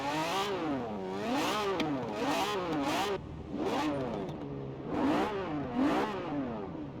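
Lamborghini Diablo GTR engine in Forza Horizon 4 free roam, revving up and down repeatedly in rising and falling sweeps, loud and close, with no talk.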